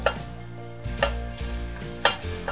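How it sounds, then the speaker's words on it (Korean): King oyster mushrooms stirred into a thick seasoning sauce bubbling in a pan, giving soft sizzling and scraping stir strokes that repeat at a steady rhythm, close by with no talking. "양념이 바글바글 끓고 있죠? 그러면 이때 이제 버섯을 넣고 양념을 골고루 덮어주세요."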